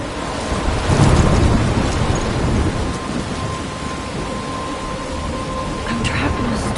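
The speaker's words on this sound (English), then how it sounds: "I'm trapped in a storm?" Thunder rumbles over steady heavy rain in a storm scene from the video game Life is Strange, a loud continuous downpour with a deep roll building early, then a constant wash.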